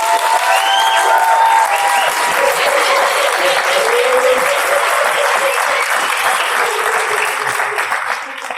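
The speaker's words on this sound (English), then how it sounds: "do you want to clap for them whilst they're walking in?" Loud, dense audience clapping with some cheering at a public speaking championship as contestants walk in, sustained and even for several seconds before tapering off.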